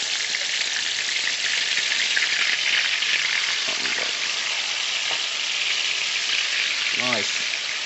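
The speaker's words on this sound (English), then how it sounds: "You can hear the sizzling." Chicken pieces fry in a pot for stew chicken, giving a loud, dense, steady sizzle that fills the whole stretch, with a few faint stirring clinks near the end.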